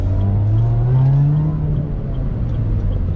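A car engine accelerates hard during spirited road driving, heard from inside the cabin with the window cracked open. A loud, steady drone rises in pitch and then eases off, with no talking.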